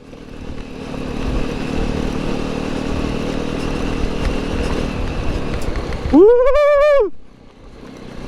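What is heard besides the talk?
Jawa 42 motorcycle riding off-road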